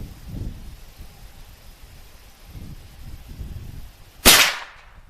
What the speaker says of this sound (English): These are the 200 grain. Shooting at the bottom target.